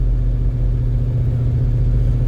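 The engine of a 1967 Chevrolet Chevelle SS with a rebuilt engine runs while the car is driven, giving a steady, loud low rumble with slight swells in pitch and no voices.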